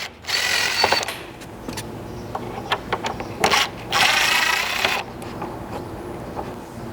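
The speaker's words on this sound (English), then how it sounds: "grab a Phillips bit and remove the 2 screws here in the back of the emblem" Phillips bit backing two screws out of the grille emblem on a Nissan Frontier during a front winch bumper install: loud bursts of power-driver whirring and ratcheting clicks, close up, separated by short pauses.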